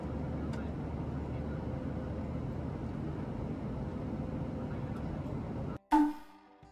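Japan Airlines airliner in flight en route to Kumamoto, a steady low cabin engine drone that holds evenly before cutting off abruptly near the end into a brief different sound.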